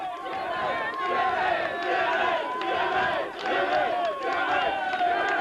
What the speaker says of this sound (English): The crowd are roaring for Jimmy Gackun.